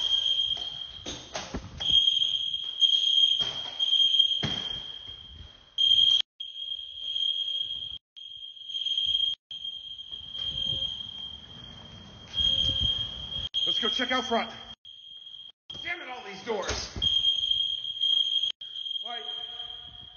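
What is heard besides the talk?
building fire alarm ringing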